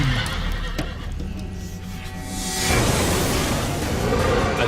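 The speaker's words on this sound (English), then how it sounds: "We wanted to make Ruin bigger and more powerful than any horse could possibly be" A huge, powerful horse called Ruin from the Darksiders video game neighs loudly, with clip-clopping hooves and a swelling rush of noise partway through.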